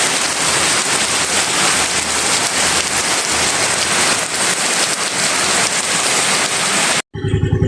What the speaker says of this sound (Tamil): மழை பெய்கிறது நல்லது